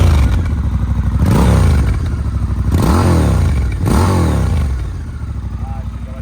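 A Triumph motorcycle engine runs close by with a deep, rumbling idle and takes three sharp revs, each rising and then falling away, before it settles back to a steady throb.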